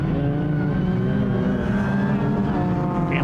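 BMW Mini rallycross race cars at Pembrey circuit produce a steady, loud, continuous engine drone and revving, with no breaks and no speech.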